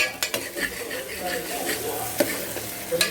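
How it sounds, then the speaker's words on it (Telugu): Onion pieces frying in hot oil for a mutton curry, with a steady sizzle throughout and frequent stirring and utensil scrapes against the pan, close up, with no talking. "ఆయిల్లో ఉల్లిపాయ ముక్కలు వేసి బాగా వేగించుకోవాలి"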